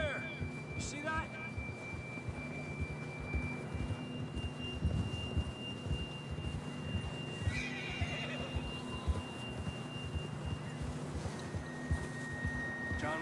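A horse whinnies a couple of times in Red Dead Redemption 2 Online, over a steady electronic tone and soft background rumble, with a brief faint voice.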